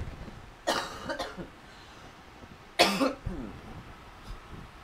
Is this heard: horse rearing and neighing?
no